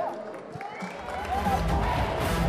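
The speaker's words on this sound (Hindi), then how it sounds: "जोरदार तालियां." Audience at a film trailer launch event applauds and cheers, a dense crowd roar that swells louder toward the end, with voices mixed in.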